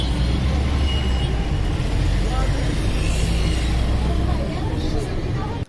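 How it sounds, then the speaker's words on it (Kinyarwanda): Dense city traffic on a Kigali road, with car, bus and truck engines rumbling together in a constant loud roar under a murmur of voices. "Turumva urusaku rwa moteri"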